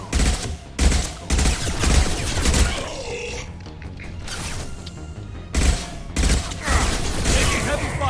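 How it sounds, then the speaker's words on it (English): Heavy gunfire in the video game Mass Effect 2: loud repeated bursts of automatic fire come in clusters with short gaps between them, close and dominant, with mechanical clatter filling the pauses. "Taking heavy fire!"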